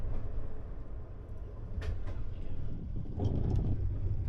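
A long-distance cross-country passenger train in Kazakhstan, a steady low rumble of running carriages from on board, with a few faint clicks and knocks over the continuous drone.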